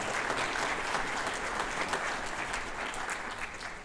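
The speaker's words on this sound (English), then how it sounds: "let's give our school board members a round of applause for their support as well" Applause from a school holiday jazz band concert audience honoring school board members, loud and full, sustained crowd clapping throughout with a slight fade near the close.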